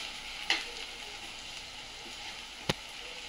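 Vegetables and sauces are stirred with a spoon in a pan: steady soft sizzling with two sharp clinks of the spoon against the pan, close and fairly quiet.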